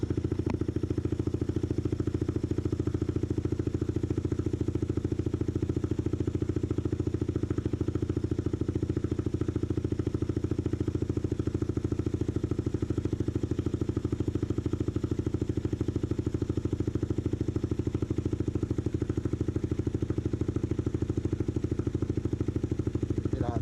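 A Honda Monkey motorcycle fitted with a swapped 250cc engine idles steadily, a constant low droning rumble with faint mechanical clatter, heard close and without talk.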